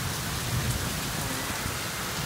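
Steady summer rain pours down in a dense, even hiss that fills the whole clip, loud and close with no gaps and no voices.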